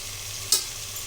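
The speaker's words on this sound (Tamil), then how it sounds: "இப்போ இந்த மசாலாலாம் நல்லா இந்த சிக்கனில் எல்லா இடமும் பரவுற மாதிரி நல்லா கலரி விட்டுட்டோம்." Chicken coated in masala is stirred in a frying pan, giving one sharp scrape of the spatula over a low steady sizzle.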